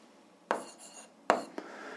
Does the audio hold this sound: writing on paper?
yes